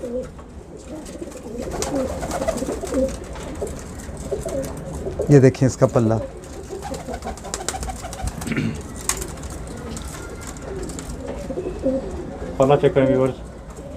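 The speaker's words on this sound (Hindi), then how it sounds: "ये एक नीला कबूतर है, देखें इसकी पलकें देखें कैसी हैं।" Blue pigeon cooing in short soft bursts close by, heard under someone talking throughout.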